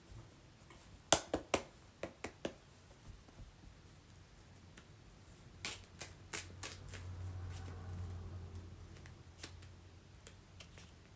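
Tarot reading cards being shuffled: a quick cluster of crisp riffling snaps, a pause, then more scattered card flicks and a soft shuffling rustle, close and fairly quiet.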